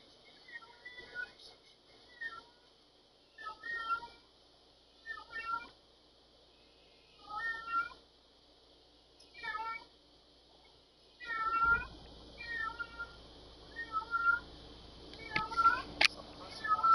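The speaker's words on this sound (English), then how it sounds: "She's over there meowing looking at the fucking door." A cat meows repeatedly at a door, short separate calls spaced every second or two, moderately near, growing busier toward the end with other faint noises underneath.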